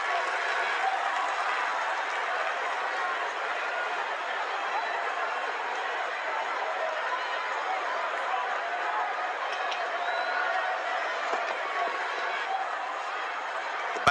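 A large cricket crowd at an India versus New Zealand Test match applauds and roars continuously after a wicket, a dense, even wash of clapping and cheering with a commentator's voice underneath.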